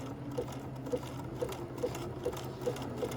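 A Bernina 335 sewing machine stitches a tight zigzag buttonhole, a soft steady mechanical hum with regular light ticks roughly twice per second, close and alone.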